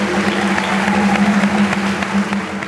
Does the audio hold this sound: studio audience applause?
yes